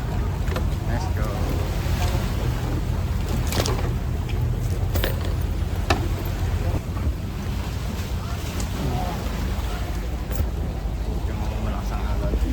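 Boats boarding at Boracay in the Philippines, with steady engine and water rumble, sea wash and wind buffeting the microphone throughout, while people talk nearby.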